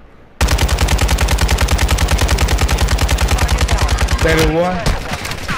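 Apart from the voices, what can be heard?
gunfire in a video game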